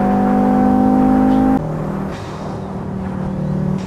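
A Volvo S60R 2.5 Turbo 4x4 engine revs in Assetto Corsa. It holds a loud steady drone, then drops in pitch as the throttle lifts, with a continuous rumble and no talk.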